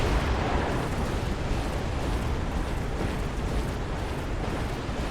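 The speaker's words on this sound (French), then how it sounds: "Voilà, petit canon, il a tapé une fois là." A small cannon unit fires in the mech strategy game Mechabellum, set in a dense, continuous wash of loud battle blasts and rumbling explosions with no clear pause throughout.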